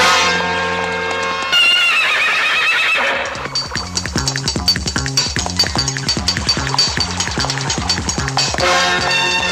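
A horse neighs loudly and whinnies in a film scene, with rhythmic hoof clip-clops and bell-like chimes over a steady musical backdrop.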